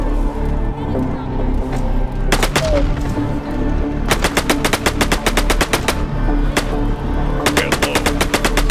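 Video game gunfire rattles out in sharp, loud bursts of rapid automatic shots, several clusters of fast cracks separated by short lulls of quieter game ambience.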